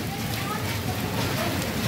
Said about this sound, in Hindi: आज हमारी तरफ बहुत ज्यादा तूफानी बारिश हो रही है।